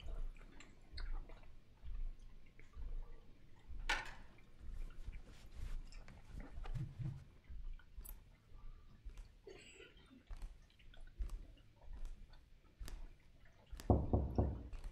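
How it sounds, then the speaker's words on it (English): Knocks on a door in a movie scene come as sparse, soft taps over quiet ambience, with a louder cluster of sharp knocks near the end, no one talking. "It's always three knocks."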